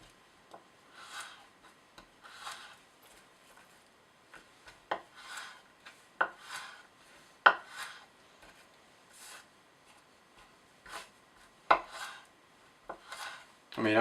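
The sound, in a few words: cKc 1.0 knife slicing wood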